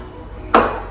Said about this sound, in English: So I'm just going to spray it with some vegetable cooking spray. This is just canola oil spray.